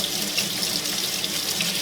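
A bathroom or kitchen tap runs steadily into a sink while a makeup brush is rinsed under the stream, giving a constant close splashing rush with slight shifts in texture and no talk.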